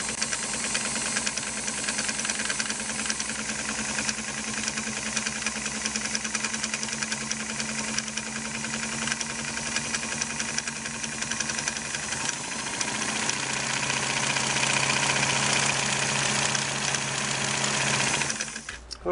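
A Singer 327K sewing machine runs after oiling, giving a steady mechanical whir with rapid rhythmic knocking throughout, close and continuous, with a slight shift in pitch past the midpoint.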